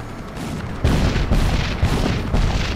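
A tank fires shells in the video game Crysis, making a run of heavy, booming blasts. They come close together, loud and near, about every half second.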